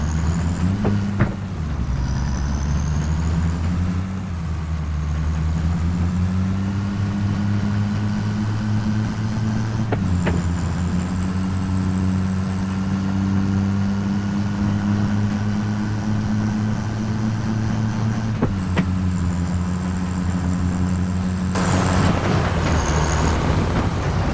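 A heavy truck engine rumbles loudly and steadily throughout, with deep low drone and occasional sharp hissing bursts like air brakes.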